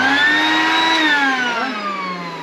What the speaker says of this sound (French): test avec l'aspirateur